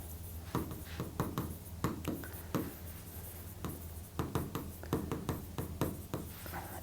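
A teacher writes on a board during a chemistry lesson, with chalk or marker producing close, brisk scratching and tapping strokes in irregular bursts separated by short pauses.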